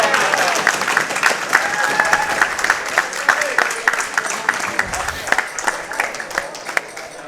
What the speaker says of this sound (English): Listen for the crowd's going to go wild here.